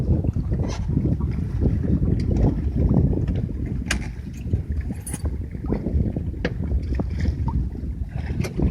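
A sailing yacht named Peregrine moving under sail after the engine is put into neutral, giving a steady close rush of wind and water along the hull with occasional creaks and small clicks, and no talking.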